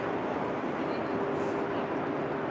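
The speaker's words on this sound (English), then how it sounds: "There goes the train again." An elevated Loop train in downtown Chicago rolls past as a steady, close, continuous rumble and rail roar that fills the whole stretch without a break.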